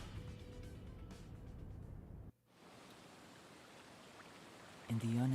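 Steady rain pours down in the neon city of Master Detective Archives: Rain Code, a dense even hiss that drops out briefly before returning.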